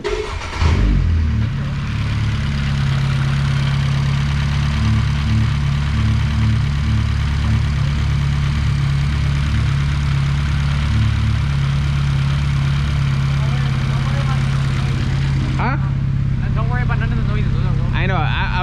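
A 10th-generation Honda Civic Si with the L15B engine and a Skunk2 intake manifold idles loudly and steadily after starting, a continuous droning hum, while people talk over it.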